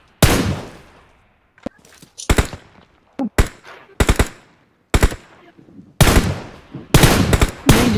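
Gunfire in PUBG played on an iPad 9, with loud bursts of automatic weapon fire repeating in short volleys separated by brief pauses across the whole stretch, close and sharp, with no talking.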